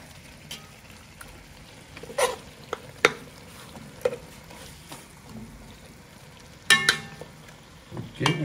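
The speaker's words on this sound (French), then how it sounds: "Et puis tu mélanges. Bien, comme ça." A spoon scrapes and taps in a pan of sizzling frying food, with a low steady sizzle and a series of irregular clacks and scrapes, some louder, close by.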